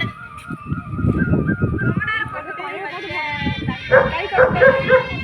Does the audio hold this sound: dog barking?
yes